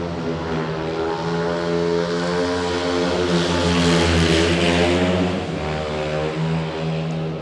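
Speedway motorcycles race around the track during a practice day, their engines producing a loud, continuous, harmonically rich roar that rises slightly in the middle and holds steady throughout, with no voices over it.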